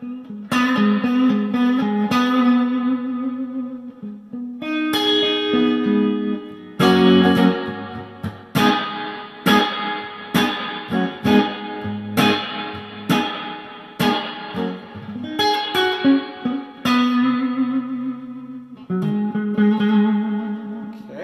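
Electric guitar played through an Electro Harmonix Holy Grail Max reverb pedal, chords and single notes ringing out with long reverb tails between strums, loud and alone without any talk.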